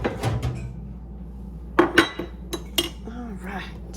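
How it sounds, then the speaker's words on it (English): A spoon clinks and scrapes against a bowl while a peanut butter mixture is stirred for homemade peanut butter cups, giving a few sharp, close knocks with quiet gaps, and a person speaks briefly. "we're going to mix that up and make sure that everything is mixed up really good together"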